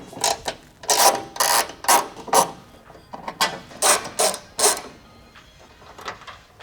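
A hand ratchet clicks in rapid bursts while two top bolts are backed out on a 2007-2018 Jeep Wrangler during a headlight harness install; close, loud and rhythmic, with brief pauses between strokes, no speech.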